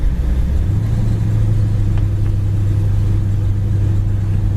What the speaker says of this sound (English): Car runs well, transmission shifts well.